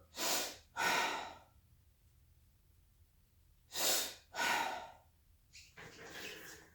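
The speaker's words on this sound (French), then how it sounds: "c'est ce qu'on appelle une respiration de charge" A person does a charge breathing exercise, with two strong breaths in quick succession, a pause, then two more strong breaths and a softer trailing exhale, close and breathy with no talking.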